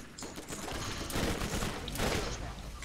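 Rapid bursts of gunfire in the co-op shooter game Borderlands, with two louder volleys clustered near the middle and end over dense game noise.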